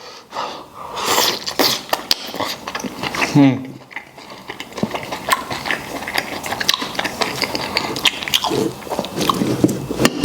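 Chewing on spicy braised beef tripe, slow-simmered two hours until springy, with close, moist biting and squelching sounds recurring through the stretch between voices.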